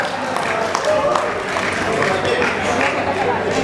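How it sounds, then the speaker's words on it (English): Audience applause for an outgoing executive committee at an AAROHANA 2016 community event on the Sunshine Coast, Queensland: steady, dense crowd clapping from start to finish, with murmured voices mixed in. "Can we have a big round of applause for the hard work of last year's EC?"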